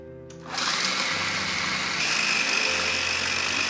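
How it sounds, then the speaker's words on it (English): A food processor starts up after a brief pause and runs steadily, blending fresh basil, pine nuts, Parmesan and garlic into pesto, a loud continuous whirring motor close by. "Fresh basil, pine nuts, Parmesan, and garlic go into a food processor"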